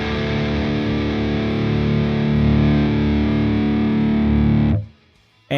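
Distorted electric guitar played through a Kazrog Thermionik emulation of a Diezel VH4 amp on its blue face channel, a thick sustained high-gain chord ringing loud and steady for several seconds before cutting off abruptly, with a brief new attack at the end.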